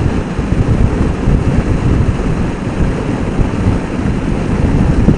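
Steady, heavy wind buffeting roars across a Vaquero motorcycle ride with the visor removed, a dense, continuous rush that never lets up for the whole stretch, with no voices.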